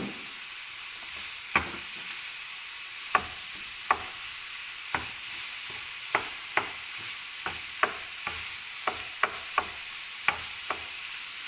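Lamb mince frying in a pan with a steady hiss, broken by sharp scraping clicks as a spoon stirs and breaks up the meat at irregular intervals, heard alone without talk.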